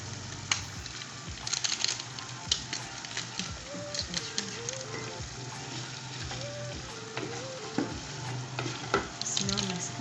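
Spices, ginger, garlic and black pepper fry in a pan, a soft steady sizzle broken by frequent scraping stirs and small clinks. The sound is close but quiet, with no talking.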